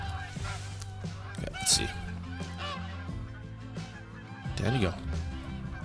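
A flock of geese honking in the hunting game Call of the Wild, coming in from the distance: overlapping honks and calls over steady outdoor ambience, with a louder burst of honking near the end and someone speaking briefly.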